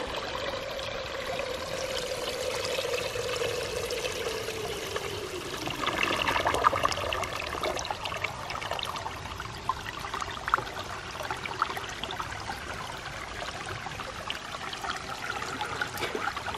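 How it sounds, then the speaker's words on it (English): Water pours steadily back into a flume over the top of a 90-degree section, a continuous near splashing and trickling stream that swells briefly partway through. "as soon as the water hits the top of this 90 degree, it'll just start pouring back into the flume."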